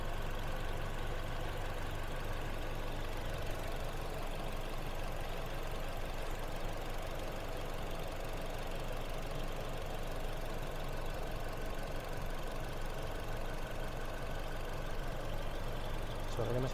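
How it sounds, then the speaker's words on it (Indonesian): A 2013 Toyota Innova V manual engine idles with a steady, even rumble and faint ticking rhythm, recorded close and alone with no talk. "Teman-teman bisa dengar sendiri suara irama mesinnya."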